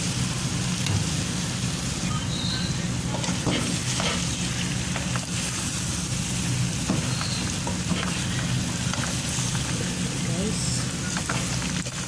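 Cooked rice sizzling and frying in a hot pan for egg and onion fried rice, a steady close crackle with occasional stirring scrapes throughout, and a voice faintly speaking underneath.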